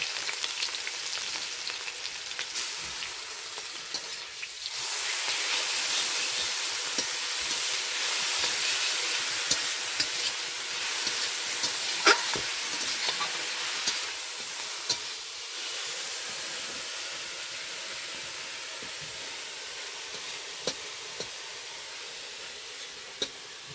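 Green chilies and onion fry in oil in a pan for a carrot-prawn dish, a steady loud sizzle and hiss with occasional stirring clicks, close and unbroken, with no talk.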